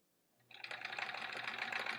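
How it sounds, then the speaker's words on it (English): A sewing machine stitches a quarter-inch seam through many thick quilt layers, starting after a short quiet lead-in and running as a steady, fast, even whir close by. "sewing that 1/4 inch through all these bajillion layers"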